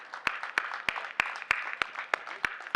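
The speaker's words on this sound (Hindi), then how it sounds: "एक बार तालियां बजाकर मुझे माहौल दीजिएगा।" Faint applause from an audience at a Hindi poetry gathering (kavi sammelan) in Paota, Rajasthan, with scattered sharp claps standing out at a steady, almost rhythmic pace over a soft wash of clapping.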